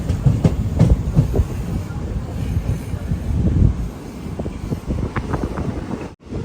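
The Matsyagandha Express rolls into Murudeshwar railway station, its wheels clattering in a rhythmic clickety-clack under rumbling carriage noise and wind buffeting, close and fairly loud throughout.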